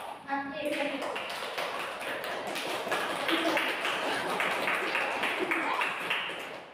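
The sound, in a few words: children clapping, a 'spirit clap' cheer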